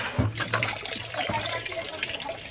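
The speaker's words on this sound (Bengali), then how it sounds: "চলো এদিকে জলের বোতলও ভর্তি হয়ে গেছে, একটা বোতল ভর্তি করে রেখেই যাই।" Water runs into a bottle from a tap outdoors, a continuous close gushing stream with a gurgling fill that holds steady throughout, with faint background voices.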